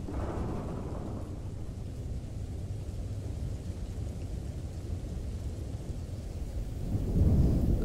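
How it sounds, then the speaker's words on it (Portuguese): Steady heavy rain pours down with a dense, even hiss, while deep thunder rumbles low beneath it and swells louder near the end. No one speaks. "Deve ser a chuva, mulher."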